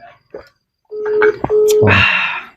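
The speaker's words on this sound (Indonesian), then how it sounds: "Harap Abang Wadija Channel sambut telepon" A phone call goes out: a few dial beeps, then a steady ringback tone interrupted once, with a voice chiming in briefly near the start and a louder voice at the end.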